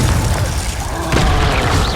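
A Confringo explosive spell going off in the game Hogwarts Legacy, a dense, loud booming blast with a second surge midway, heavy low rumble throughout and no speech.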